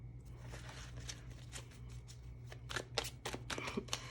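Tarot cards shuffled for a Capricorn love reading, with a few cards sticking out of the deck. Soft riffling builds to several sharper card flicks near the end, close up over a low steady hum, no voices.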